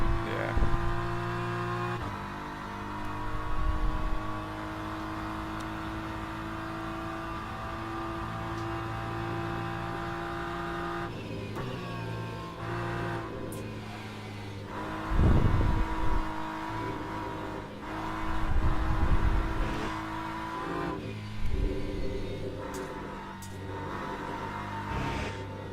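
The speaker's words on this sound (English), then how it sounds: "I'm assuming the hypercars are out now." Hypercars race around the Le Mans track in Le Mans Ultimate, engine drones rising and falling with several louder passes and revving surges, a steady motor hum underneath and occasional talk.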